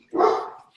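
A dog lets out a single loud, close bark, short and sharp, with no other sound around it.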